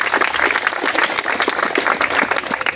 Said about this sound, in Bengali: তাইলে টিচারদের জন্য একটা জোরে করতালি দাও।